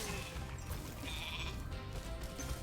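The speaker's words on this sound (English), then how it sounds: "Toasty's just a sheep." Sheep bleating in the video game Spyro the Dragon, a short wavering bleat sitting over busy game sound effects and background music, with no talking.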